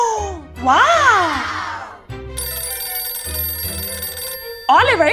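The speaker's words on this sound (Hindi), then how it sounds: "क्या लगता है कि ये फोन की घंटी कहाँ पे बज रही है?" A telephone bell ringing in a children's challenge game, a sustained bright electronic ring that plays for a couple of seconds, with a child's and an adult's voices talking and exclaiming loudly around it.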